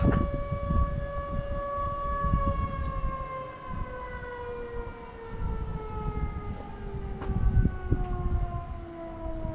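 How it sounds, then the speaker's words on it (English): A wailing siren drones with a slowly falling pitch, sounding from a distance over low rumbling background noise, in the hillside mining town of Jerome, Arizona, late morning. "there's a siren going off"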